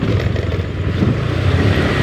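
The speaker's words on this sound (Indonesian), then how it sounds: "masih ada 1-2 motor lewat guys" A motorcycle passes along a village road at midnight, a loud close engine drone with slightly fluctuating revs running through the whole short stretch, no talk.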